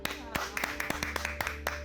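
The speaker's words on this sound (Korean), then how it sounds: "박수" A handful of distinct hand claps in an uneven rhythm during a talk about investing, close and fairly quiet, with faint voices around them.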